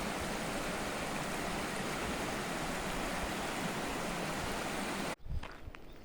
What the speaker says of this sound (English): I walked down just a little here to see the actual creek at Deer Creek, and it's flowing pretty good